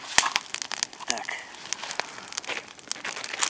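A small plastic bag holding matches crinkles and rustles up close during a moose hunt outing, with sharp crackling bursts and softer handling noise.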